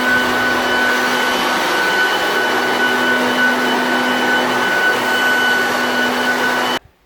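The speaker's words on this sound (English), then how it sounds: "blow all the dust out" Blower clearing drywall dust out of a house, a steady loud mechanical whine with a constant hum running nearly the whole time, then cutting off abruptly at the end.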